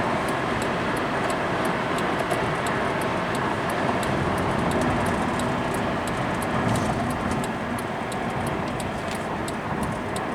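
A 2002 Honda Accord cruises along the interstate, giving a steady broadband hum of road and tire noise from inside the cabin, with faint regular ticking running throughout and no voices.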